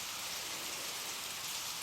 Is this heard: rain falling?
yes